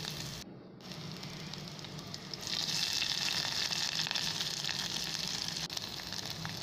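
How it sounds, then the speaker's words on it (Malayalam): Onions and green chillies sautéing in coconut oil in a pan for a clam dish, giving a steady soft sizzle that swells louder partway through, close and continuous with no talk. "അതിൽ കുറച്ച് വെളിച്ചെണ്ണ ഒഴിച്ചിട്ട് നമ്മുടെ ഉള്ളിയും അരിഞ്ഞു വെച്ച ഉള്ളിയും പിന്നെ പച്ചമുളകും ഇട്ട് കൊടുത്ത് നന്നായി വഴറ്റിയെടുക്കണം."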